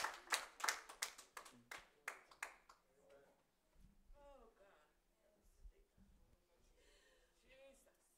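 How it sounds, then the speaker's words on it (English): A church congregation claps in praise, a burst of loud, uneven hand claps at the start that fades into scattered claps while someone speaks and voices respond. "Y'all give God a hand clap of praise in this house."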